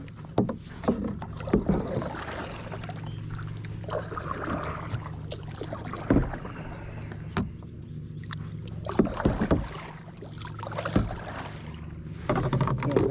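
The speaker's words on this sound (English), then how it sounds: "we're gonna paddle a little bit" A small boat is paddled across a pond with soft, irregular splashes and dips of the paddle over a low steady background, with occasional sharper knocks against the hull.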